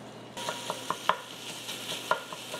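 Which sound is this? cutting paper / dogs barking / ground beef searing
ground beef searing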